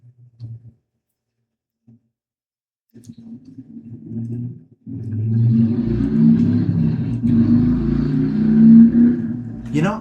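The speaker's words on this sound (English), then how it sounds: "it's just like a regular motorcycle" A loud motorcycle engine outside, a low rumbling growl that builds after a few faint thumps and keeps droning steadily, heard from indoors.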